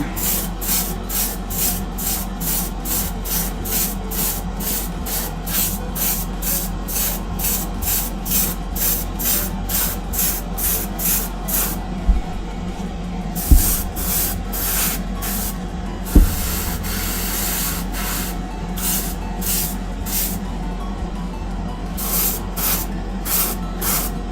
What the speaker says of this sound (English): A little more spray.